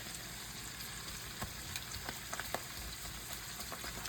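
Spinach cooks down in a pan for a Parmesan gravy, giving a steady soft sizzle with scattered small pops and a light stir, faint and alone.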